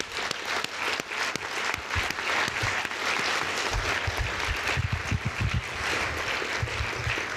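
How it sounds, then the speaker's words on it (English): An audience at an evening meeting applauds the candidates, producing dense, continuous clapping that stays loud and even throughout, with a low rumble of crowd noise building in the second half. "Let's give a round of applause to all the candidates."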